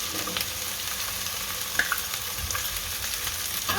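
Tomatoes go into a pan of garlic and curry leaves that are already frying. A dense, even sizzle runs close and steady throughout with a few faint clinks. No voices.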